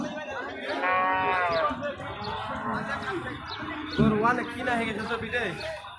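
Cattle lowing at a busy cattle market near the Bangladesh border, several drawn-out moos rising over a crowd of people talking.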